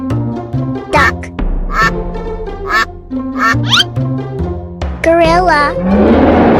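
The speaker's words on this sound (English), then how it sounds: "Duck." Cartoon duck quacking in a few loud, close bursts over a bouncy children's music backing.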